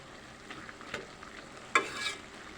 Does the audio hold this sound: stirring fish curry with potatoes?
yes